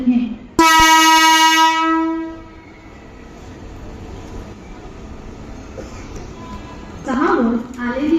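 A Mumbai EMU electric multiple unit local train at Kurla station sounds a loud, sustained horn blast, then a low rumble of the train continues, with a voice over the station noise toward the end.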